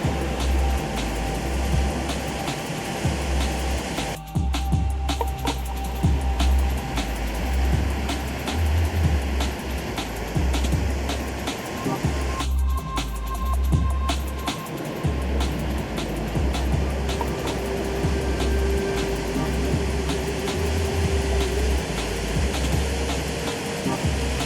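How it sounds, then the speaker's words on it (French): Waterfalls on Mount Pelion in Greece roar steadily as a broad, constant rush of falling water, loud and close, with no voices over it. "je vous laisse avec le son des cascades."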